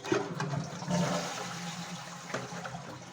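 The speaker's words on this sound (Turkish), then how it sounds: "Depomuzun içerisini boşaltalım." A toilet cistern empties as it flushes, making a rushing, gurgling surge of water that peaks early. The sound then settles into a steady trickle and drain, heard nearby with no talking.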